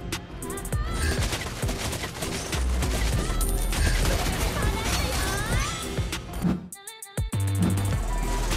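Rapid bursts of video game gunfire crack over electronic music and game effects, with a brief silent gap before the action resumes.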